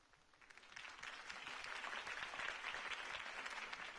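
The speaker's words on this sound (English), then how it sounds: "If only Mr. Wayne, my campaign's largest backer, could have heard that applause" Applause after Harvey Dent's campaign speech in the Telltale Batman video game, a crowd's clapping rising from quiet to a steady, dense roar that holds to the end.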